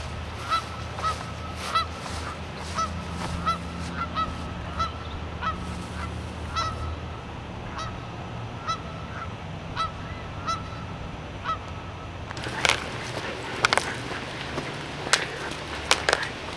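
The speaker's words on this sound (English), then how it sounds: "The geese are a little upset with Callie" Geese honk repeatedly outdoors in a garden, with a burst of sharp calls in the first seconds, scattered honks through the middle and a louder noisy flurry near the end, over a low background rumble.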